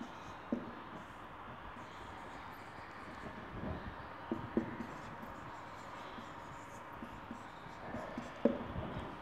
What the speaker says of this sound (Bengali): এরকম একটা বাক্য আমি লিখলাম